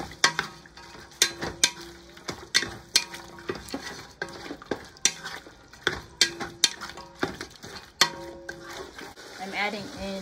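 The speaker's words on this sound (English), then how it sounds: "Let's stir." Lamb stir fry with soy and oyster sauce is stirred in a pan, a spoon knocking and scraping against the metal in quick repeated strokes over a faint sizzle, with brief voice sounds near the end.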